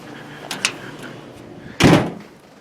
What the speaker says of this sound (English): Oh, crap, door didn't shut.